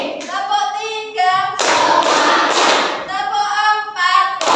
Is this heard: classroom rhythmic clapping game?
yes